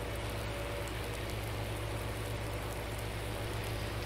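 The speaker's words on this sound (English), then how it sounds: "man, I want this rain to go away." Steady rain falls throughout while a farmer is out seeding corn in the Midwest, a dense, continuous hiss of drops with a low rumble underneath, with no speech.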